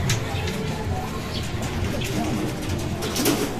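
A racing pigeon coos softly after arriving home from a 685 km national race released from Maasin, Leyte, amid a noisy loft with voices nearby.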